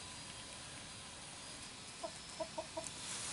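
A Frizzle Cochin hen gives a few soft, short clucks in a quick cluster over a faint steady background hiss. The clucks are quiet and somewhat distant, with no one talking.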